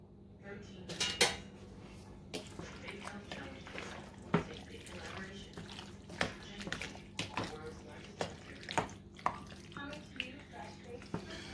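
A spoon scrapes and clinks around a pot of home-made meat sauce in a home kitchen, with irregular knocks against the metal over a low background hum.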